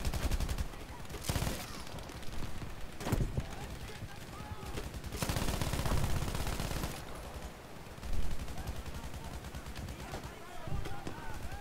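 Sustained automatic gunfire and bursts of shooting at defensive flares during a large-scale attack-versus-defense video game battle, loud and continuous with several heavy volleys, with a voice talking over the fighting.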